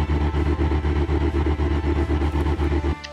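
A turbocharged 7.4L big-block pushrod V8 with dual four-barrel carburetors idling loudly and close up, giving a deep, lumpy, rhythmic exhaust pulse that cuts off abruptly at the end.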